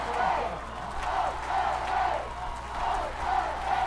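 A crowd at a high school football game between Pearland and Manvel roars and cheers in rolling surges, the loud and distant stadium din swelling and fading in waves with a few yells mixed in.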